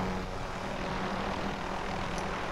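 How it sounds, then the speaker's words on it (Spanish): A helicopter in Call of Duty: Modern Warfare gives off a steady droning rotor and engine hum that holds at a moderate distance with no voices over it. "Ya hay un helicóptero, güey,"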